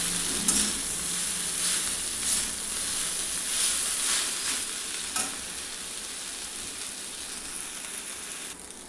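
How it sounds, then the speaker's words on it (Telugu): Instant noodles with coriander powder and garam masala are stirred in a pan, a steady soft hissing sizzle with intermittent light scrapes and taps from the utensil, moderately quiet and close. "వేసుకొని చక్కగా కలుపుకోవాలండి"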